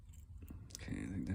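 A pin clicks faintly inside a Master ProSeries 6852 six-pin padlock as it is blind-picked, with quiet scratchy taps and a soft clicking burst near the end over low background noise.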